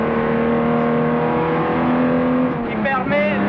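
A 1962 Aston Martin DB4 GT at full throttle down the Masta straight at Spa, heard onboard as a loud, sustained engine drone that shifts pitch near the end, with someone talking over it.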